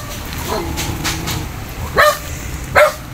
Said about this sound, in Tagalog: Tatapang yung aso mo dito.